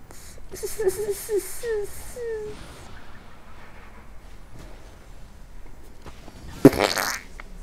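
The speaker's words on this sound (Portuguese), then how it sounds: "Peidou." A fart heard over a League of Legends game session, a brief squeaky burst near the start with game effects and a sharp click later, under ongoing background noise.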